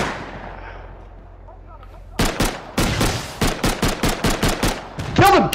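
Video-game gunfire rings out from a tugboat: after a quiet lull, a loud rapid string of close, sharp shots fires in an even rhythm, followed by a brief burst of voices at the end.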